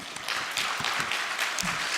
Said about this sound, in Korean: 우리 장로님들 박수합시다.